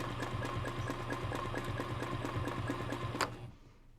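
A sewing machine runs steadily as it stitches down a seam, a close, even mechanical whirr with rapid rhythmic ticking that stops abruptly near the end.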